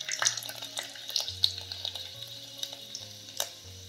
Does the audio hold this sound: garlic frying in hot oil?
yes